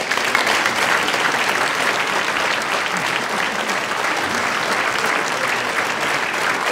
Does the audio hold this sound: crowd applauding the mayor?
yes